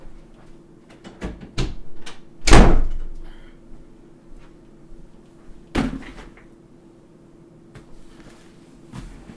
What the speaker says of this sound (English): I'm gonna open the door and everything.